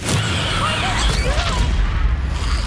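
A Confringo fire-blast spell in the Hogwarts Legacy video game bursts out as a dense, loud, boomy impact, layered with game combat noise and a voice shouting over it.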